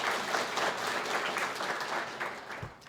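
An audience in a hall applauds guests who came from Addis Ababa, a steady wash of many hands clapping at full strength for about three seconds, easing off at the very end, with no talking over it.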